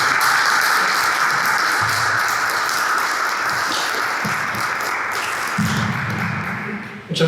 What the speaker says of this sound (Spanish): Les pido por favor un fuerte aplauso para el maestro Pedro.